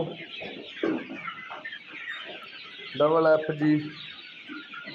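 Desi native chickens and a rooster cluck on a farm, with scattered nearby clucks throughout and a voice speaking briefly over them.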